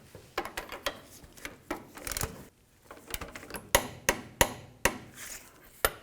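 A tie rod nut is tightened to torque on a Ford F-250, giving irregular ratchet clicks and metallic taps that grow sharper and louder toward the end. The sound is close and has no talking.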